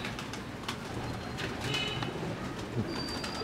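An out-class Teddy pigeon at a breeder's loft in Kasur gives soft, low coos that sit faintly beneath steady background noise, with a few brief higher chirps from other birds.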